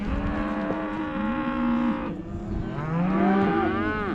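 Several cattle moo loudly and repeatedly on a Montana cattle drive, long drawn-out bellows overlapping from nearby animals with no talk.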